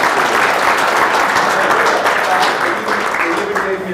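Audience applause after a talk on automotive service, a dense continuous clapping that holds steady throughout, with some voices mixed in under it.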